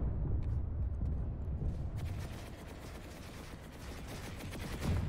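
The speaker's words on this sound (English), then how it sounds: "Whoa! I'm getting shot at." Gunfire in the PlanetSide 2 video game, a dense rattle of rapid shots and bursts that thins out midway then picks up again, moderately loud and alone.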